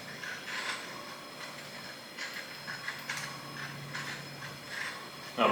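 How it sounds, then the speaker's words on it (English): Fishing line wound at a steady speed onto a KastKing Spartacus II reel gives a continuous close-up mechanical whir with light ratcheting clicks that swell and fade in a regular rhythm. "try not to reel it in too fast, just a steady speed"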